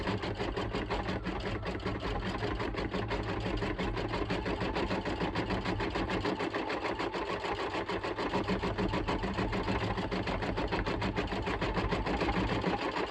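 An embroidery machine stitches out a Halloween design, its rapid needle hammering in a steady, close, continuous rattle with no pauses throughout.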